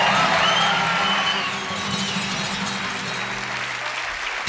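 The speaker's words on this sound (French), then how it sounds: "Michel Etcheverry, applaudissements du public" A crowd applauding steadily, a broad wash of clapping that fades toward the end.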